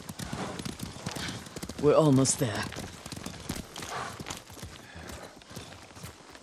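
Horses' hooves clip-clop in the Ghost of Tsushima video game, a soft steady patter under a spoken line of dialogue, with a brief louder burst near the middle.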